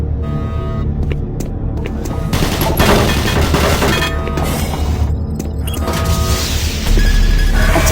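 Automated turret guns in Doom 3 fire rapid, dense bursts inside a loud, cluttered game soundscape, with crashing impacts and mechanical noise running continuously for the whole stretch.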